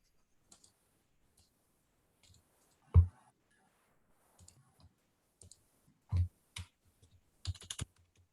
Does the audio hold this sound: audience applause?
no